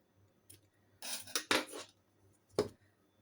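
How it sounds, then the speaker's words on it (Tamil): A few short metallic snips and clicks of scissors cutting embroidery thread after a knot, close and quiet, in separate bursts against a near-silent background. "நாட் போட்டு கட் பண்ணுங்க"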